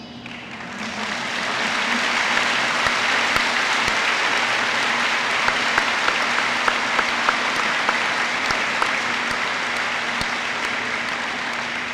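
Steady applause from a sizable crowd at a state police youth camp awards ceremony, starting after a brief quiet moment and holding strong and even, with individual claps popping out near the front.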